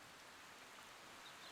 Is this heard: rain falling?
yes